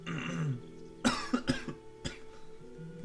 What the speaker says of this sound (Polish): Sorry, że tak chrząkam itp. itd., ale dawno jestem nieprzyzwyczajony, żeby ciągle gadać.